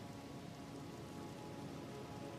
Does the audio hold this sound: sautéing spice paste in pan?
no